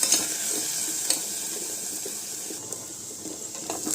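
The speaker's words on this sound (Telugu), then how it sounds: "మనం కడిగి పెట్టుకున్న ఒక కప్పు కందిపప్పుని వేసుకుని కొంచెం బాగా ఫ్రై చేసుకోవాలి" A cup of washed toor dal frying in a pan, a soft continuous sizzle with a few sharp utensil taps and stirring scrapes, close and moderately quiet, no talking.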